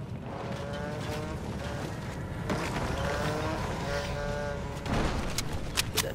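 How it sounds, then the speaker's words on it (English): A loud motorcycle engine in the Fortnite video game roars steadily and close, with a rising surge near the end and game sound effects mixed in. "that motorcycle's loud as hell"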